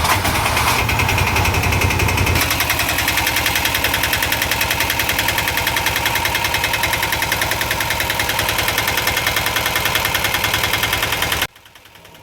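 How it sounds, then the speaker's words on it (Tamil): An Ape auto rickshaw engine at a workshop, just after a PTO bearing set repair, runs steadily at idle with a loud, even chugging that holds for about eleven seconds before cutting off, with no voices. "வண்டியை ஸ்டார்ட் பண்ணியாச்சு."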